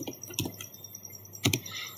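Command typed on a computer keyboard during Cisco router configuration, a few sharp close key taps in quick succession with short pauses between them.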